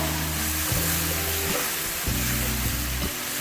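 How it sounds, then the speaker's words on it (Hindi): Masala and meat (gosht) frying in a pan for a cauliflower-and-meat curry, giving a steady, loud, close sizzle that runs without a break under low background music. "मसाला हमारा अच्छी तरह भून चुका है।"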